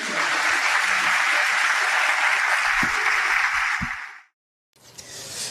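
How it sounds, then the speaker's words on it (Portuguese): Church congregation applauding during a Pastor Cláudio Duarte sermon, a loud, dense, steady wash of clapping for about four seconds that cuts off abruptly, followed by a short silence and the start of renewed crowd noise. "Aplauda o Senhor, pastor."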